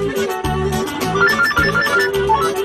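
A mobile phone ringtone plays a repeating electronic melody in short, evenly spaced phrases, loud and close, with no talk over it.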